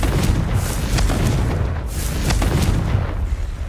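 A Confringo blasting spell goes off in Hogwarts Legacy, a dense rumbling boom with repeated heavy bursts rolling through the whole stretch, loud and close, with no one talking.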